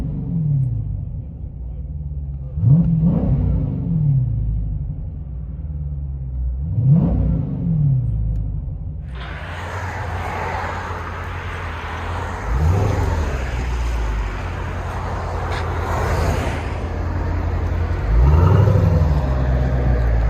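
Inside a 2020 Dodge Challenger 392 6.4L HEMI V8 with a Jones exhaust, deep engine rumble swells in several rev blips, then a steady roar of acceleration with broadband road and wind noise fills the cabin.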